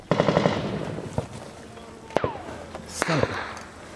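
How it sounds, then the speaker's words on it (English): Gunfire from Taliban squads in a fierce Afghanistan firefight with Marines: rapid bursts of automatic fire up front, then several sharp single cracks spaced apart with echoing tails, loud and near over a rumbling battlefield background. "2 Taliban squads of 5 each are moving and firing."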